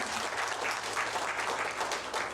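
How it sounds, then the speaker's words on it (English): Steady applause from a crowd of many people at a Weyburn city council meeting, dense and even throughout, with no voices standing out. "So one more round of applause for everybody"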